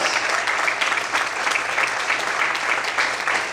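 Sustained applause from a large church congregation during a sermon, dense and steady throughout with no break, fairly loud and close.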